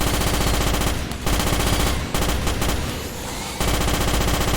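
Rapid automatic gunfire aimed at arachnids in the Starship Troopers video game, a dense loud stream of shots with short pauses near one and two-to-three-and-a-half seconds, then resuming.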